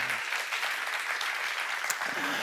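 Church congregation applauding during a Korean sermon-seminar at Jesus Center Church, a dense, steady wash of many hands clapping throughout, fairly close and full, with no speech over it.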